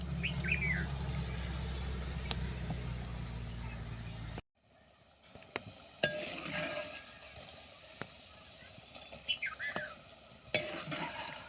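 Bhaji fritters deep-frying in oil while being flipped, a steady sizzle with sharp utensil taps and a pause, and birds chirping faintly in the background.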